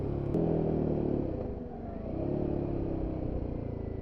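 Royal Enfield Himalayan 450 adventure motorcycle engine running steadily close by, a low throbbing idle that swells slightly in a couple of gentle revs, with no voices over it.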